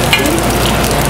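Mushrooms sizzling and frying in a hot pan as they are turned to brown, a steady dense crackle close up with no talk.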